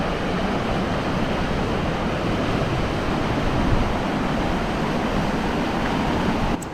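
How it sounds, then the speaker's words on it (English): Floodwater rushing over granite outcrops after a storm in Girraween National Park, Queensland, a steady, loud, broadband roar that stays constant throughout, with no voices. "now you can see the water is just rushing down through these granite outcrops"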